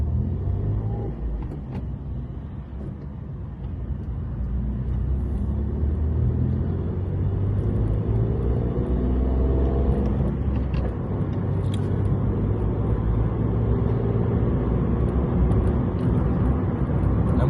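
Inside a car driving through Blackpool traffic toward Victoria Hospital, a steady low road and engine rumble continues for about seventeen seconds, with faint passing noises and no voices.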